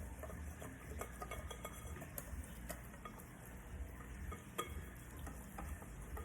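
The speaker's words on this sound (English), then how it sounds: "We're about halfway through mixing." Steady scraping and clinking of a utensil stirring a thick mixture in a bowl, a continuous close-up swishing with occasional sharper taps, no talking.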